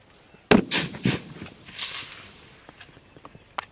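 Several sharp, distant cracks from precision rifle fire at a Texas match, a crisp report followed by a faint metallic ping of steel target impacts, with fainter pops trailing off.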